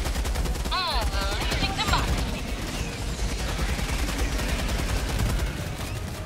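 A heavy machine gun fires rapid sustained bursts in Helldivers 2, loud and close, layered over chaotic battle noise and a player talking.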